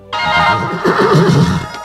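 A horse neighs loudly and close by, one long whinny that quivers and trails off over about two seconds, with no talk over it.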